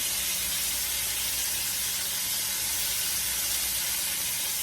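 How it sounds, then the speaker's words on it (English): Loud, steady sizzling and crackling of chicken deep frying fully immersed in hot grease, a dense continuous hiss with no talking. "when they're fully immersed in this grease like this, it's just like deep frying"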